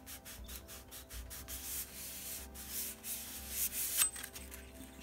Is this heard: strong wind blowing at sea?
no